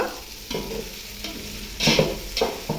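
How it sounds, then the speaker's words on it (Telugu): Curry leaves hit hot oil in a pan of mushroom masala, giving a close crackling sizzle broken by several scraping stirs of a spoon, with no talking. "ఇప్పుడైతే కరివేపాకు వేస్తున్నాను"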